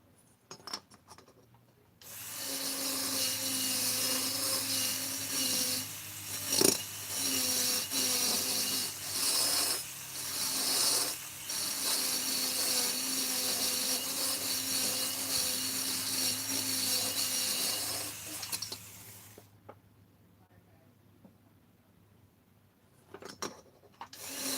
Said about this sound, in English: Quite a bit of drilling to do here.